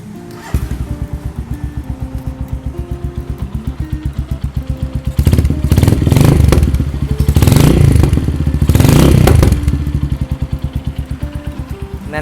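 A Stallion Centaur 250 Max 2017 motorcycle fitted with an aftermarket carburetor idles with a loud, rhythmic thumping beat, revved up twice in short bursts before dropping back to the lumpy idle.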